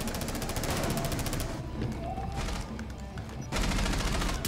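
Rapid bursts of automatic gunfire in Rainbow Six Siege, loud and close, breaking off for a moment of quieter rumbling and clatter before the firing resumes.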